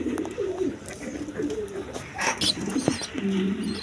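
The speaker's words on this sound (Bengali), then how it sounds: "এখানে এক পেয়ার হাই ফ্লাইং বাস কবুতর আছে" High-flying pigeons cooing in a loft, several low rolling coos repeating close by, with occasional chirps and faint background noise between calls.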